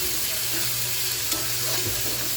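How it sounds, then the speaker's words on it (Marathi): Tomatoes sautéing in a pan on a home kitchen stove give a steady, close sizzle and soft frying hiss. Faint stirring scrapes sit on top of it throughout, and no one speaks. "टमॅटोला आपण थोडं परतून देऊया."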